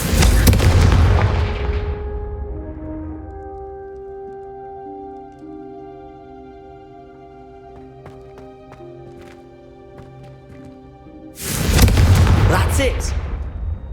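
Confringo fire spell in Hogwarts Legacy blasting candelabras: a loud booming blast at the start and another near the end, with a ringing, tonal decay and faint clinks between.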